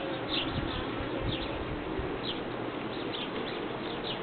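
Honey bees buzz at a beehive in a steady, dense hum that stays continuous and fairly close, with no voices over it.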